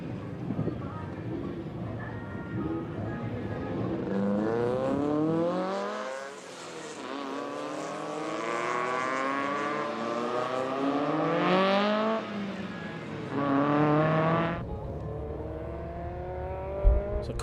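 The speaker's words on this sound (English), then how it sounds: "So cars making their way out to the circuit now for Paybar Volkswagen Challenge Race 1." Volkswagen Challenge race cars roll out onto the circuit at Red Star Raceway, several engines droning with rising and falling pitch sweeps and overlapping revs as the cars move off together.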